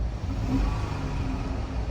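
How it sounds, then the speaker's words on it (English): A V6 car engine, a used vehicle with 111,000 miles and a slight misfire, idles and runs steadily nearby with a low uneven rumble and no talk over it. "Yeah, it's got a miss. There's just a little bit of noise in the V6 engine"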